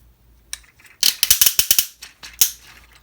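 The plastic ratcheting leg joints of a JuJiang JJ-01 Transformers figure click sharply in a quick series of loud, close ratchet snaps, about a dozen in rapid succession, with no voice.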